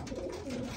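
Pigeons in a breeding loft give a short, low cooing burble, steady and fairly close, with no talk over it.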